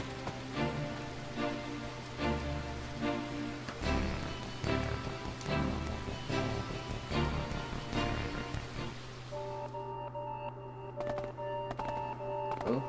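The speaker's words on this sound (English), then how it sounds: "Why is it raining all of a sudden?" Rain falls in the video game Sword Art Online: Hollow Realization, a steady soft patter running under sustained tonal background music for about thirteen seconds.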